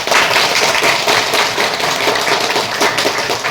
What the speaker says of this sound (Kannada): ಹಾಗಾಗಿ ಅವರಿಗೆ ಜೋರಾದ ಚಪ್ಪಾಳೆ ಬರಲಿ